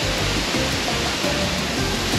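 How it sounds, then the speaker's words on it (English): A waterfall in the town square of historic Ponce, Puerto Rico, a steady broadband rush of falling water that stays even and loud for the whole stretch, with no voices over it. "And a nice waterfall."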